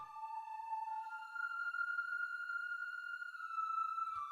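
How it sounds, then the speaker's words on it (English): Sustained synthesizer pad from the TuneMaker VST plugin with light chorus, reverb and a hint of drive, a steady bright tonal chord holding evenly for about four seconds, played alone. "Nope, pad sound."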